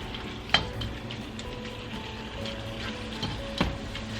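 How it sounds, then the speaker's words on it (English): Ground beef fries in a pan over high heat with a steady sizzle, broken by a few sharp scrapes and clicks from stirring. "we're going to cook our ground beef over high heat"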